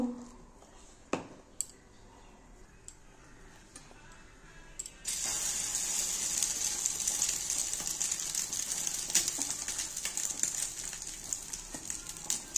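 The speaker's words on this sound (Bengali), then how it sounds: "ডিম রুটিগুলো দেখো তেলটা গরম হয়ে গেছে। এবার আমি ভেজে নেব।" Egg-dipped bread slices hit hot oil in a pan and burst into loud, steady sizzling that runs to the end, after a few quiet clinks of utensils beforehand.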